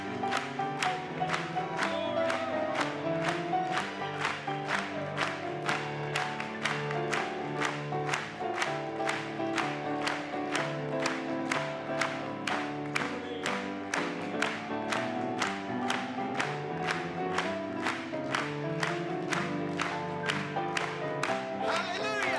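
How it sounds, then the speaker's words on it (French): A church congregation clapping in steady unison, a long even rhythmic beat of hands over organ-like music that carries on without pause. "Acclamons une fois de plus."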